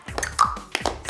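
A few sharp hand claps and taps made close by at home during a parent-and-child music activity, spaced irregularly with short pauses between them.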